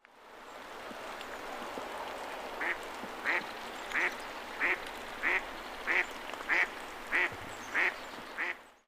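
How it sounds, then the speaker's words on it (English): An American black duck quacking at a marsh, a regular series of about ten short, fairly deep quacks at an even pace over a soft background of flowing water. "the quack is maybe slightly deeper in the American black duck"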